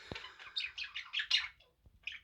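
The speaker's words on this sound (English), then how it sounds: "There's a bird right next to you, just above you, a real bird." A real bird chirps close by indoors, a quick series of about eight bright tweets in a steady rhythm, followed by a short pause and one more chirp.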